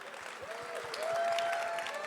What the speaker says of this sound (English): Polite claps.